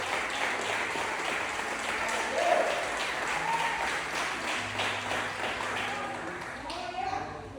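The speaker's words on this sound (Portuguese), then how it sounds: "Pode aplaudir a Jesus" Church congregation applauding during a Portuguese-language evening worship service, a steady wash of many hands clapping with voices and shouts mixed in throughout.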